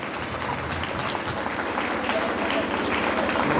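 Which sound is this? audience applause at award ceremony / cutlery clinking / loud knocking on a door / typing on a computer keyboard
audience applause at award ceremony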